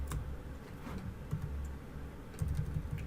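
Computer keyboard typing while coding a Project Euler solution, a quiet run of rapid, irregular key clicks in close succession, fairly near but low in level, with no talking.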